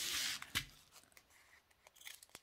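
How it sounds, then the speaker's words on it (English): Scissors snip through the top of a small resealable plastic bag, one sharp cut near the start followed by faint rustling and crinkling of the plastic, close and fairly quiet. "We're going to have to cut the top off one of these."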